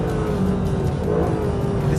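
A Mercedes SLS AMG Black Series with a 6.2-litre engine revs hard, a loud, steady, close roar holding high with a slight rising pitch, heard from inside the car on track.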